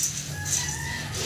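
Chickens on a farm cluck and crow in a continuous, close flock chorus, with shrill calls rising over a low steady background hum.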